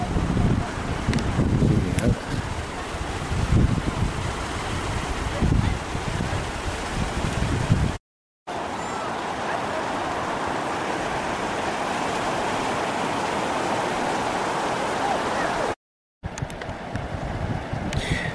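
Sea waves wash along the coast near Granville, a steady roar of surf heavily buffeted by wind noise, broken by two brief cuts to silence.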